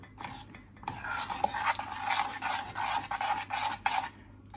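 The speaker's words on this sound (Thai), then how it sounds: "เสียงช้อนอาจจะรบกวนนิดนึงนะคะ แต่ว่าไม่อยากใช้ไม้พายนะ ใช้ช้อนดีกว่า" A metal spoon stirs thickening flour batter in a pot over low heat for kui chai chive dumplings, giving a close, continuous rasping scrape with steady repeated strokes against the pot.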